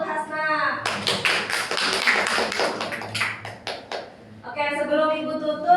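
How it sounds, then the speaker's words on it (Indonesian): A small group in a classroom claps for a student, a short burst of distinct hand claps that trails off into a few final taps, with a voice speaking before and after. "Tepuk tangan untuk Hasna."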